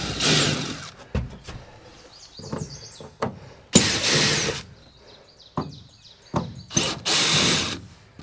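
A power drill whirs in repeated short bursts, starting and stopping several times, with clicks and handling knocks between the runs.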